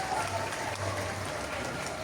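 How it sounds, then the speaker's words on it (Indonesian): A school flag ceremony crowd claps together in a continuous, even patter that sounds fairly close, with faint voices blended underneath. "Kita tepuk tangan dulu"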